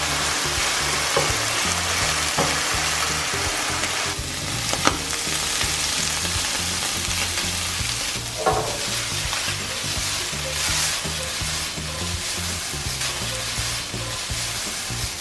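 Chicken liver pieces sizzle and spit steadily in a large hot pan, a dense continuous frying hiss with occasional louder pops and crackles, close and alone without any talk.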